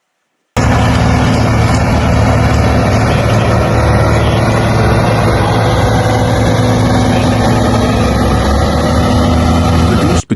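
A 1977–1982 Ford FW60 tractor engine runs steadily at close range, a loud, continuous heavy low rumble holding constant throughout with no speech.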